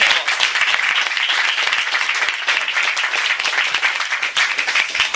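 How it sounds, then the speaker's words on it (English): A roomful of listeners gives dense, sustained applause after a talk on designing customer experience in the digital age, a loud continuous roar of many hands clapping at once. "I think one more round of applause."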